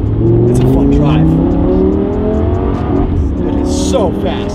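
A Lamborghini LP 570 sports car driving fast, its loud engine revving and shifting in rising sweeps, with talking over it throughout.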